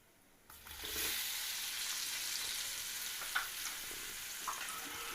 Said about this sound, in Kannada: ನಾವು ಚೆನ್ನಾಗಿ ಒಂದು 2 ನಿಮಿಷಗಳ ಕಾಲ ಚೆನ್ನಾಗಿ ಫ್ರೈ ಮಾಡ್ಕೊಳ್ಳೋಣ